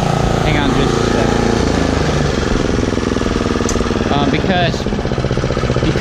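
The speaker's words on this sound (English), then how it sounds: "Mowing right here." A lawn mower runs loud and close with a steady rumbling drone across a dipping, uneven yard, with a person's voice heard faintly under the engine noise.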